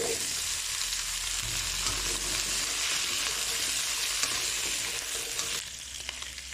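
Beef browning in a hot pan for a beef estofado gives off a loud, steady sizzle and crackle of frying that continues throughout with no talking.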